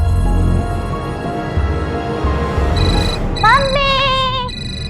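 A mobile phone's melodic ringtone chimes in the middle of a Hindi TV crime drama scene, a bright warbling tune entering over a busy background music bed and running for a couple of seconds.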